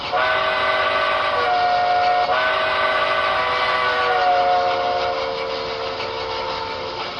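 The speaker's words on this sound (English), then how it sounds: "the whistle has a couple of send-offs, depending on how you blow it" A brass hybrid New Haven I-4 model locomotive whistle sounds a long sustained multi-tone blast, shifting pitch partway through, then slowly trailing off over steady background hiss.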